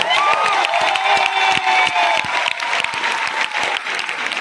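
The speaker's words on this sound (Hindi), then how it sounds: "ऊपर वाले के लिए एक बार जोरदार ताली हो जानी चाहिए।" A large crowd at a big motivational gathering claps loudly for a sustained stretch, with some cheering and a few voices mixed into the dense applause.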